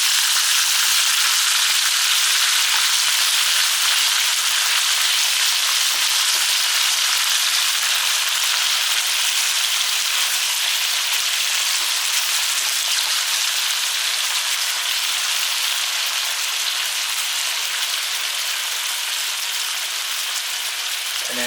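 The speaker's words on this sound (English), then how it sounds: "And you let the monkfish start cooking." Monkfish frying in a hot pan, a steady, loud, even sizzle with a fine crackling texture that holds constant throughout without pauses or talk.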